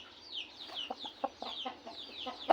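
A Thai fighting rooster (kai choeng) gives a run of soft, quick clucks in a rough rhythm, fairly quiet and close, with no other sound competing.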